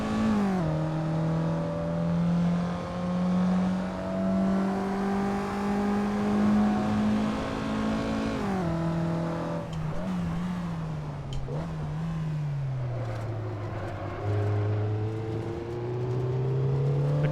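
A race car engine in Assetto Corsa drones steadily at high revs, the pitch holding, dipping briefly with gear changes and throttle lifts, then climbing again as the car accelerates, heard close and alone.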